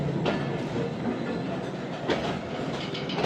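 The Khyber Mail train pulls into Sadiqabad railway station, a steady loud rumble of rolling carriages with rhythmic wheel clatter over the rail joints. Sharp metallic clacks recur throughout, and nobody speaks.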